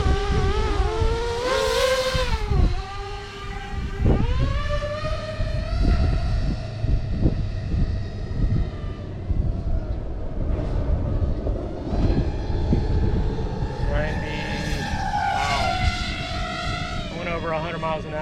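FPV racing quadcopter on 5.2x6.0 props at half throttle, passing with a rising then falling high-pitched motor whine, loud near the start and again late, with some talk underneath.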